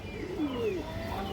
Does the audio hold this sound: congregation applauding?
no